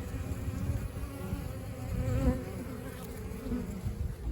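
Honey bees buzz in a dense, steady drone, close and continuous, with the hum swelling slightly midway.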